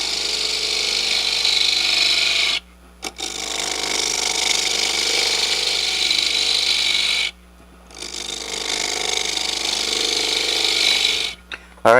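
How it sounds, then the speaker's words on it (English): A gouge cuts a natural-edge wooden bowl spinning on a lathe, giving a loud, continuous rasping shear in long passes broken by short pauses where the tool lifts off. "I'm pushing the gouge in and I'm just cutting with this little corner, right just off of center, going down along the side."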